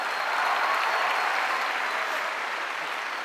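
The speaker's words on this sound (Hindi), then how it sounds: "जोरदार ताली इसके लिए।" Audience clapping loudly and steadily at a company success-day event in Delhi, a dense unbroken wash of applause lasting throughout.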